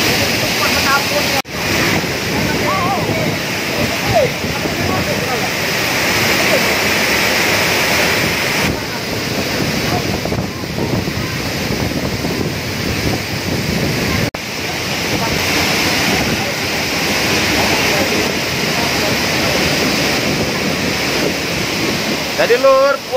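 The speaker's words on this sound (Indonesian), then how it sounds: "puas kami posisi di air terjun Besabang 2" The Besabang 2 waterfall near Curup in Rejang Lebong, Bengkulu, roars steadily at close range, a dense unbroken rush of water with some wind buffeting the microphone and occasional voices underneath.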